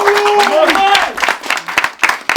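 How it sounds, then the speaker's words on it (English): Amateur football team clapping for themselves after a semi-final match, a scattered round of claps from a small group outdoors, following a voice talking over the start. "just give yourself a round of applause"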